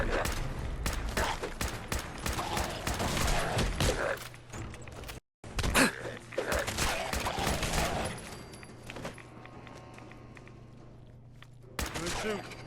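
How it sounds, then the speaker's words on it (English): Bursts of gunfire from the video game Fallout 4, sharp repeated shots in clustered volleys, loud and close, with a pause and a few scattered shots later, alongside a speaking voice. "Opening fire."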